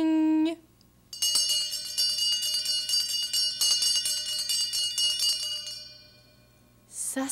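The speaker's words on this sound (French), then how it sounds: "La petite cloche." A small bell rings rapidly and repeatedly for several seconds, bright and close, then fades out before another brief ring at the end.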